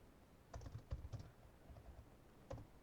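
Short bursts of keystrokes on a computer keyboard, close and quiet, tapping out a few clustered clicks with a pause before one last brief run.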